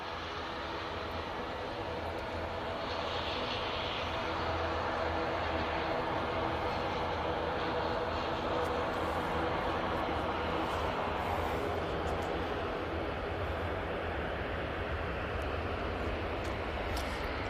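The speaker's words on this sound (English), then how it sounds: "There goes the TUI, 737-800." A TUI Boeing 737-800 rolls for takeoff at Manchester Airport, a continuous broad roar of jet engines that swells slightly and holds steady for the whole stretch.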